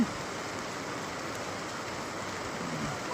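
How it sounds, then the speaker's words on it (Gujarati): Heavy rain pours down steadily, a dense, even hiss of drops hitting surfaces with no voices present. "ઘટા આમ જામ વરસાદ પડે છે"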